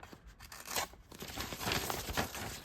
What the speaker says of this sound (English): Let's see if we can cut this Harbor Freight ad.